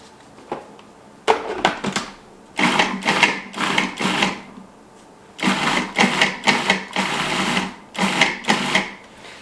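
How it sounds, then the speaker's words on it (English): A food processor pulses roughly chopped tomatillos for salsa, a series of short loud whirring bursts separated by brief pauses, close by, with some bursts running together. "I'm going to start with these in the food processor."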